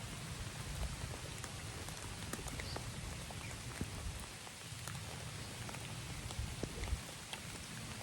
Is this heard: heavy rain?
yes